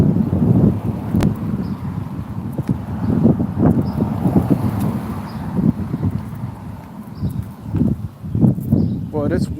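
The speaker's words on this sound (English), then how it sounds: "Boy, this wind" Wind blowing outdoors, buffeting the microphone with a steady low rumble that surges and dips, while someone talks under it.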